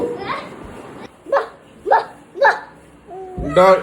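A voice imitates a dog with short repeated barking yelps, three quick "woof"-like bursts, close to the microphone.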